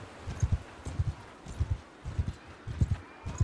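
Horse hooves thud in paired beats, a rhythmic clip-clop repeating about every half second, soft and muffled, in the video game Mount & Blade II: Bannerlord.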